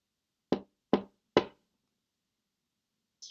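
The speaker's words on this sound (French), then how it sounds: "qui frappe à la porte?" Three sharp knocks on a door come in quick, evenly spaced succession, followed by silence.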